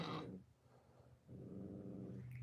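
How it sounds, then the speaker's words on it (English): A puppy growls at a pet pig indoors, two low rumbling growls separated by a short pause, close and fairly quiet, with no talking. "That's my puppy growling at my pig."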